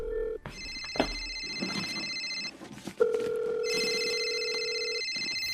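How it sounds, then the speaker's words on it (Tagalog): A cellphone rings in a Tagalog radio drama scene, with repeated electronic ring tones in bursts separated by short pauses, clear and fairly close, with no talk over them. "Bakit cellphone mo yung nagre-ring tuwing tinatawagan ko yung number na nagpapadala sa akin ng text"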